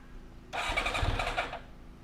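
A carbureted four-cylinder 400cc Yamaha XJR400 motorcycle engine cranks and fires up in a short, rough burst lasting about a second, then falls quiet.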